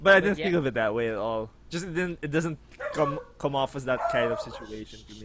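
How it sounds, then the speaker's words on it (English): A dog barks and yips in short bursts somewhere in the room, partly masked by two people talking continuously close by. "Sorry, that's my dog."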